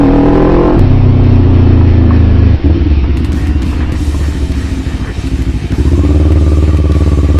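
A motorcycle rides over a rough, bumpy road, its engine droning loudly and close while the chassis clatters and rattles, with the engine note dipping and picking back up as it goes.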